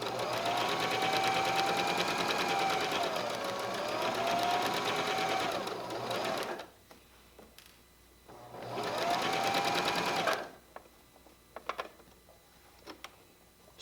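A sewing machine stitches a quilted pillow seam in two long, steady whirring runs separated by a pause, close and loud, with small handling clicks and taps afterward.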